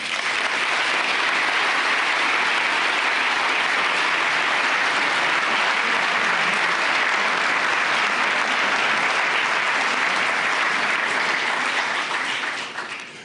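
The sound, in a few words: audience applause welcoming President Macron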